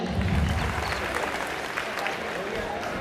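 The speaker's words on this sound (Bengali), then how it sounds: "স্যারের জন্য একটা জোরে করতালি।" A crowd of students at a college freshers' welcome ceremony claps loudly for the principal, dense applause filling the whole moment with a voice heard over it.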